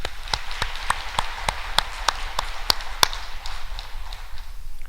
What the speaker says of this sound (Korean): 박수로 한번 영광 돌리십시오.